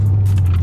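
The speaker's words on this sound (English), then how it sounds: "I'm driving the car now." A Honda Civic Type R FK8 drives at night on its way onto the freeway, a steady loud low engine hum with road noise over a brief moment.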